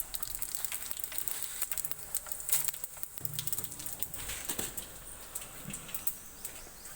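Tempering seeds dropped into hot oil crackle and sizzle faintly and steadily, with scattered sharp pops over a quiet kitchen background.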